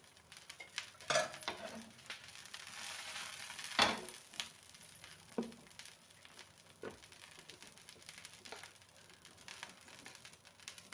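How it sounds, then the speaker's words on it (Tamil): Pesarattu batter of green gram sizzles on a hot tawa with a steady hiss, broken by a few sharp scraping and clinking knocks of a utensil near the start and middle; no voices. "இப்போது இந்த பெசரட்டு அடியை வந்து தோசை மாதிரி ஊற்றி எடுத்துக்கலாம்"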